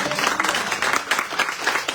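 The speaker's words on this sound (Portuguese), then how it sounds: "Você pode aplaudir o Senhor por essa palavra?" A church congregation applauds in a brief, full burst of many clapping hands, fairly loud and continuous.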